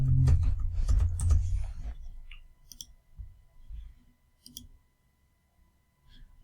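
Computer keyboard typing while entering a username, email address and password into a website sign-up form: a few sparse, close clicks follow a loud, rumbling burst at the start, then scattered taps in near silence.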